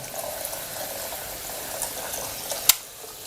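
A heated knife splashed with water during a hot-knife demonstration hisses in a steady, moderately loud sizzle, ending in one sharp splash-like burst near the close.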